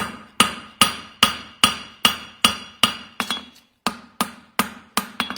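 Metallic hammer blows on a welded metal section during a farrier session ring out close and sharp, about a dozen strikes in a fairly steady rhythm with a brief pause near the end and no talking.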